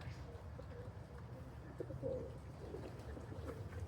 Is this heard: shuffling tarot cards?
no